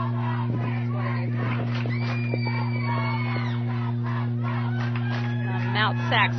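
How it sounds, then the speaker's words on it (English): Crowd at a Mount San Antonio College softball state championship game cheers and shouts over a loud steady hum, with scattered whoops and yells across the whole stretch and a brief louder burst near the end. "Mount Sac's crowd cheering him on here"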